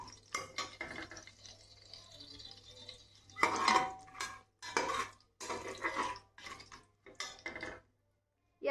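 Spoon scrapes and clinks against a pan while ingredients are stirred and sautéed over a medium flame for a quick home-style biryani, in short irregular bursts with pauses between, close and moderately loud.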